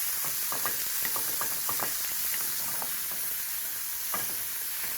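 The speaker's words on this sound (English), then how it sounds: "Now this of course should brown very, very quickly, being that it is also a very, very small amount of mince." Small amount of beef mince browning in a frying pan, a steady close sizzle with scattered clicks and scrapes as the meat is stirred and tossed, no voices over it.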